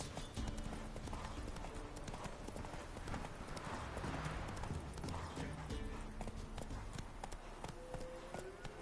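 A horse's hooves clip-clop at a trot in The Witcher 3 video game, a quick steady rhythm that runs the whole way through. A faint game soundscape sits underneath.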